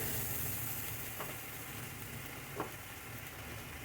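Ginger paste added to a hot frying pan for egg curry, a steady close sizzle with faint scraping stirs, without talk.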